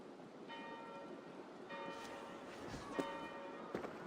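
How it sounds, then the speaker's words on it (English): Church bells peal in Assassin's Creed Valhalla, a steady run of bright, ringing tolls repeating about every second and a half at moderate distance over a faint ambient bed, with no voices. "Do you not hear the bells?"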